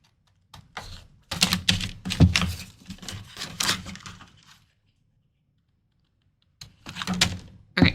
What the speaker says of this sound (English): we could probably use our scissors to help us out here